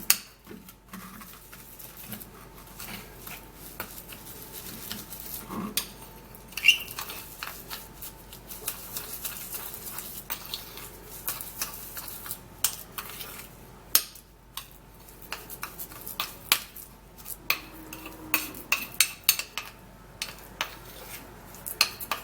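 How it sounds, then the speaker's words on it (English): Honey being stirred into a skin-care mixture in a bowl, heard as faint, quiet scraping and soft clinks of a utensil against the bowl, with irregular taps throughout. "I'm going to be putting in this honey, and then we would have to mix this all up."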